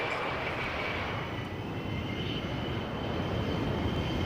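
A prototype Embraer ERJ-135 regional jet flying at the Farnborough International airshow in 1998, a steady, loud, sustained jet engine roar with a broad rumble and faint whine, unbroken and with no talking.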